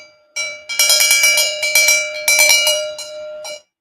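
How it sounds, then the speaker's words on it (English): A free cowbell is struck repeatedly in an uneven, fast pattern, each bright metallic clank ringing close and loud with short decays, before it stops abruptly into silence. "This is the only free cowbell."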